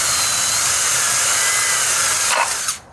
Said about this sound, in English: I'm just going to drill a 3/8 inch hole